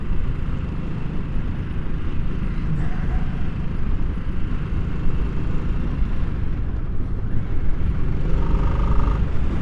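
A 2022 Harley-Davidson Nightster motorcycle engine drones steadily under acceleration, a continuous loud rumble with wind noise throughout and a slight rise in intensity toward the end.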